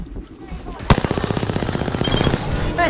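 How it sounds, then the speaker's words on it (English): Rapid automatic gunfire in Apex Legends rattles off in a fast, even burst of about fifteen close shots after a single loud crack, with game noise around it. "getting shot at"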